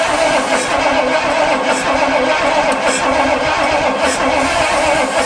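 An abandoned Pontiac luxury car, left unused for 20 years, has its engine cranking, a loud, continuous churning drone with no clear start or catch.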